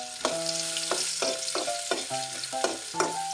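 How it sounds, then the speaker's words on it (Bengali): Garlic frying in a pan with dried chillies, a steady broadband sizzle running throughout, with repeated stirring scrapes and spoon knocks at a slow, regular rhythm, close and fairly loud. "রসুনটা দিয়ে একটু ভেজে নিচ্ছি"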